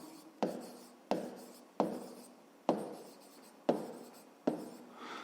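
Pen or marker strokes writing out a fifth-grade maths solution by hand, six sharp scratching strokes at a steady rhythm, close and clear with no talk.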